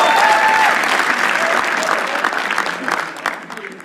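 Sustained audience applause at a comedy show, a dense wash of clapping that holds loud at first and then tapers off slightly toward the end.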